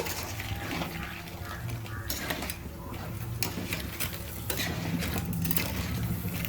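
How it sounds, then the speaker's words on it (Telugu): A crab fry with masala and a little water is stirred in a pan, giving irregular clinks and scrapes of a utensil against the metal, close and continuous with no speech. "కలుపుకుందామండి"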